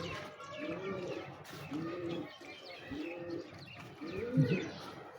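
Pigeons coo repeatedly in soft, rounded calls about once a second, with faint chirps from other birds in the background.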